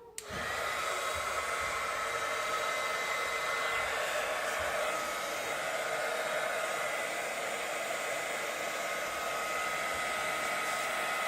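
An embossing heat tool for heat setting embossing powder in rose stamping runs steadily and fairly loud, a continuous airy blower whoosh after a quick start, alone without any talk.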